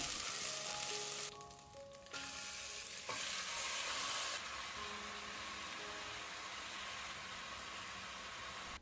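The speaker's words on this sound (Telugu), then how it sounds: "అల్లం వెల్లుల్లి పేస్ట్ అనేది 2 టీ స్పూన్స్ దాకా వేసేసుకునేసి ఫ్రై చేసుకోవాలి" Ginger garlic paste fries in hot oil inside a pressure cooker, giving a steady, dense sizzle with stirring scrapes throughout, close and fairly loud with no talking.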